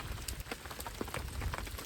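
Rain falls steadily at a November winter campsite in Michigan, with soft, dense patter and scattered louder drops, faint and continuous.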